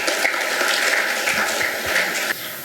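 Crowd of students and staff clapping at a school Independence Day celebration to welcome a Class 8 student speaker, a dense steady applause filling the hall that drops off sharply near the end.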